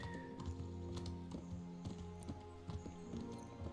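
Horses in a medieval village in Kingdom Come: Deliverance, hooves clip-clopping in an uneven, steady patter with a brief whinny amid low game ambience.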